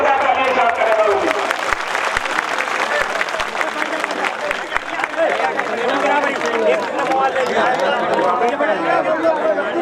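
Crowd clapping loudly at a political rally in Uttar Pradesh, dense sustained applause with sharp hand claps and crowd chatter mixed in, close and strong throughout.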